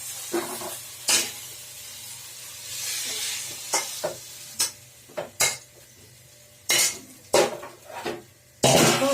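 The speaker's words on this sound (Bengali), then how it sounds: "শাক চটুরিটা ঢেলে ফেলছি" Water spinach curry (kolmi shaker chochchori) is scraped and poured from a wok into a pot, with sharp metal clanks and scrapes of utensils between quieter stretches of soft sizzle, close by.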